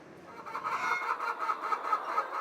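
Hens cluck repeatedly in a short rhythmic series at close range on a poultry farm in Togo, against faint background noise.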